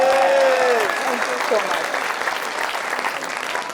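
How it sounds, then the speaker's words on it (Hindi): Studio audience applause fills a Pakistani comedy talk show set, steady broadband clapping that holds throughout while a brief voice rises over it at the start. "ये माइक पर आकर गरजती हैं जब भी, तो हर जुमले पे इनके बजती है ताली।"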